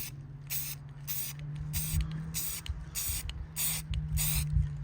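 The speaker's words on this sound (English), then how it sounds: "You're gonna stand back, good amount here, the recommended amount, and then you're gonna spray" Rust-Oleum satin canyon black spray paint sprayed onto a slate, a series of about eight short hissing bursts in a steady rhythm, each lasting under half a second, close and fairly loud over a low background hum.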